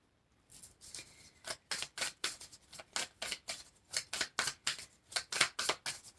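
Tarot cards being shuffled and drawn, a run of about twenty quick crisp riffling bursts in an uneven rhythm, close and fairly quiet with no talking.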